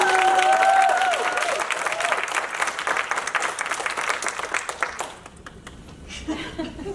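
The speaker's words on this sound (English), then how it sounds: "So I just want to give them some claps." Audience applause from a crowd at a Baltimore community talk, dense steady clapping that runs for about five seconds and then fades, with a few faint voices in the background.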